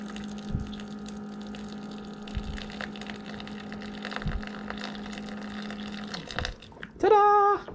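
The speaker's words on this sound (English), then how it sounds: "You can then just add fresh hot water." Fresh hot water pours into a bowl in a steady, close, low stream over a faint hum, ending in a short burst of higher sound.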